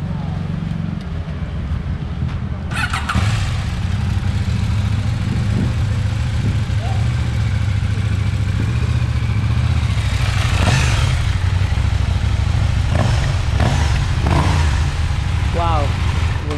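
A KTM 790 Duke motorcycle idles with a steady low throb and a few sharper blips, heard close and loud throughout, with people chatting nearby.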